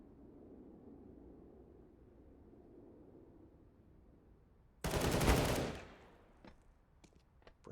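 Galil rifle fire in a competitive first-person shooter match, a single loud close burst of automatic shots after a quiet stretch of low background hum, followed by a few faint clicks and ticks.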